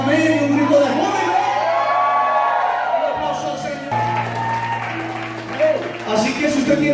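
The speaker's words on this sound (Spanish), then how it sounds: "Un grito de júbilo." A church congregation cheering and applauding during a service, a steady wash of clapping and shouts filling the room, loud and continuous with a sustained tone and a voice running beneath.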